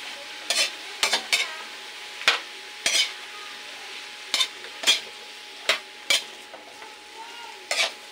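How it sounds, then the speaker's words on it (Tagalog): Bottle gourd sautéed with onion and garlic in a pan, about a dozen sharp separate scrapes of a spatula stirring against the pan over a faint low sizzle, close and quiet between strokes. "Gisa-gisa ko ang gulay para may lasa-lasa siyang sibuyas at bawang, magbango-bango."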